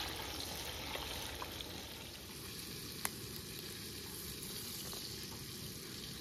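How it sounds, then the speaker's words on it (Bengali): Potatoes for khichuri fry in a pot on a picnic trip, giving a faint, even crackling sizzle that runs unbroken, with one brief sharp tick near the middle. "খিচুড়ির আলু ভাজা হচ্ছে"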